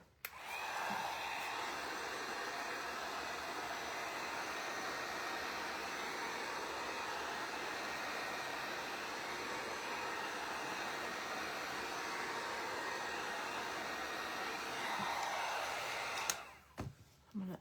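A handheld dryer blows steadily on wet paint on a wooden bunny craft for rub-on transfers, a loud, even rushing whoosh held close for most of the time and cut off abruptly near the end.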